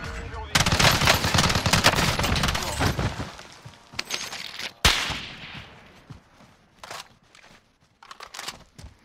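Rapid automatic gunfire from FFAR and AUG weapons in the shooter game Warzone, a dense loud stream of shots that stops, then a fresh burst followed by scattered single shots and fading echoes.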